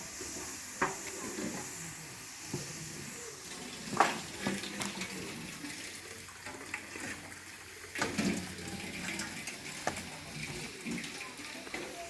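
Food cooking in a pan at a family picnic outdoors, an ongoing sizzle and frying hiss with stirring clanks and scrapes of utensils, with voices speaking nearby now and then.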